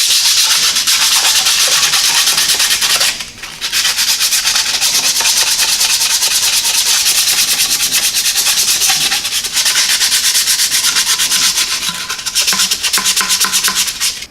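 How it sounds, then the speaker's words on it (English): Sandpaper rubs hard over the exhaust manifold of a 1929 Ford AA tow truck, giving a loud, rapid, continuous scratchy rasp. Two brief pauses break the strokes, and no one talks. "A bit of sandpaper action."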